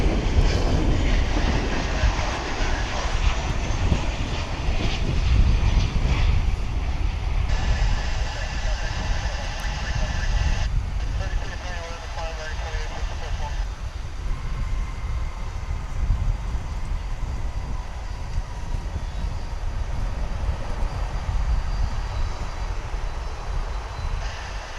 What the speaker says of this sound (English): This is American Flight 1811 coming in from Omaha, Nebraska.